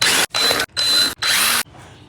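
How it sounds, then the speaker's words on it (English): A power drill whirs in four short, loud bursts with brief pauses between them, close up, while trying to remove screws from a bicycle's back tire. "Either way, this drill won't work, so put that aside."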